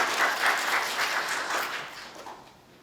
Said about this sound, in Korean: 지금까지 시상을 해주시는 의장님께도 감사의 박수 한번 부탁드리겠습니다